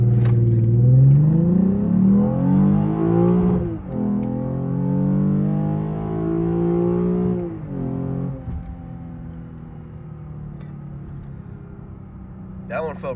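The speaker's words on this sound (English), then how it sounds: "I heard the rev limiter go really quick." A 2017 Lexus IS 350 with an RR Racing tune, in sport mode with traction control off, accelerates hard with a loud rising engine note, a quick shift, then a second climb before settling to a lower drone.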